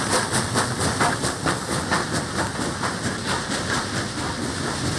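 A Norfolk & Western steam locomotive, Class A number 1200, chuffs rhythmically with a steady beat of exhaust puffs over a continuous hiss, drawing closer and holding a strong, even pace.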